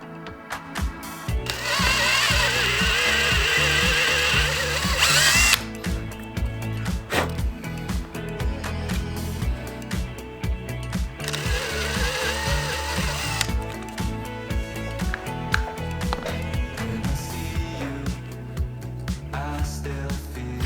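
A drill with a counterbore bit cuts into a carburetor body, a whirring motor run with a louder cutting burst early and again mid-way, mixed with clicks and handling noises nearby.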